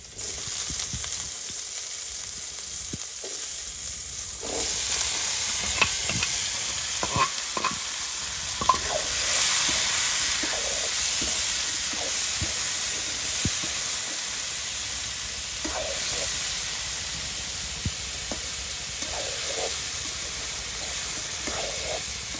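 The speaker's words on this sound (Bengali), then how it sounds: "আলুর জন্য দিয়ে দিচ্ছি তেল। আলু কষাইতে হবে, দিয়ে দিচ্ছি আলুগুলো।" Potatoes fry in oil in a pan during village cooking, with a steady sizzling hiss and scattered scrapes and clicks of stirring, fairly quiet and close, without talk.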